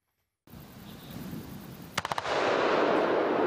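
After a rising roar, a quick cluster of four sharp blasts cracks out as four cars explode in Lviv region, followed by a loud, sustained rushing rumble of explosion and fire.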